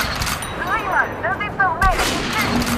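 Rifle gunfire in the shooter Metro Last Light, with a few sharp shots over a busy game backdrop and warbling creature cries partway through.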